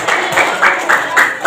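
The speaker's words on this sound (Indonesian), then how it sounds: "Kasih aplaus dulu buat Bang Alfia" Classroom applause for Bang Alfia during a maths lesson, a few people clapping in rhythmic bursts, moderately close and fairly steady.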